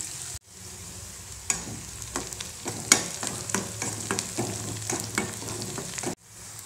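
Green chillies and onion sauté in a pan for South Indian keerai masiyal, giving a continuous close sizzle broken by scraping stirs and small crackling pops, cut off by short silent gaps at the start and end.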